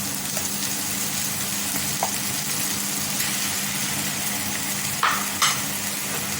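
Ginger garlic paste sautés in a pan with a steady, even sizzle, and a few soft clinks and scrapes of stirring near the end.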